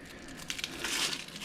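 A knife slices through an onion on a kitchen board, a brief close crisp crunch and crackle over a faint background, with no voices.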